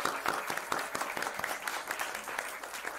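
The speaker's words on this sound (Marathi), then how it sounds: "आपण जोरदार टाळ्या वाजवूया" At a school assembly, an audience gives the children's programme dense, continuous applause. The many overlapping claps sound fairly distant and faint for about three seconds.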